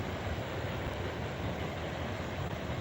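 A continuous rumbling roar of a passing CSX freight train, steady and broad, with heavy low-end rolling noise and no pauses.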